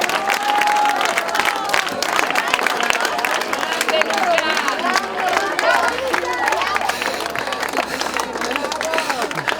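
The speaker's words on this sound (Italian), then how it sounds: "Applauso al primo classificato" Spectators at an X-Terra race finish applaud and cheer the first-place finisher, loud clapping mixed with crowd hubbub and a tannoy announcer talking over it.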